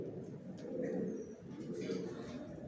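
Pigeons coo in a rooftop loft, a soft low murmur of several birds running steadily throughout, with faint higher chirps drifting in over it.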